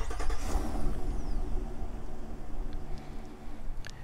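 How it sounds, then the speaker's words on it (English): A 2021 GMC Sierra 3500 AT4 pickup starts by remote start, the engine cranking and catching with a brief rev before settling into a steady, fairly close idle rumble, with no talk. "To remote start the truck, lock it once and then hold down the remote start button."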